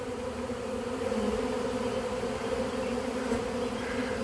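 A large swarm of honey bees buzzes all around, a dense, continuous droning hum with steady loudness and no pauses.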